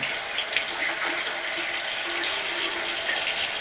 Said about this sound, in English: So what you do is you turn on the water to the sink.